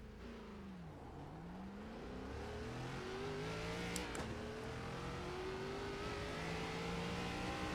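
An ARCA race car engine in the iRacing simulator at Charlotte accelerates steadily, its pitch climbing smoothly with a brief dip at a gear shift, loud and continuous throughout with no talk.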